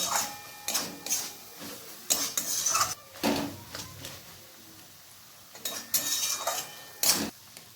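A spoon scrapes and clinks against a wok as bamboo shoots fry in mustard oil, sharp metallic strokes arriving in irregular bursts with quiet pauses between, close and alone.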